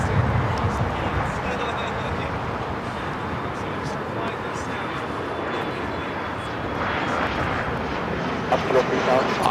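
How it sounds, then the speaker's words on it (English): Boeing 777 freighter taking off at LAX, a steady broad jet roar that holds for the whole stretch at a constant, fairly loud level, with faint voices in the background. "777 freighter should be our next heavy takeoff."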